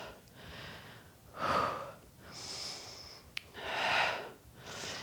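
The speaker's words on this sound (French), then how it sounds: "On commence à respirer plus fort" Heavy, rhythmic breathing during a cardio Pilates workout, slow loud inhales and exhales in close succession, breathy and near with no talking.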